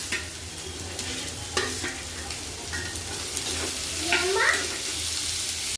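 Vegetables for manchow soup being stirred in a hot pan, a steady close sizzle with scraping stirs throughout and a brief voice underneath.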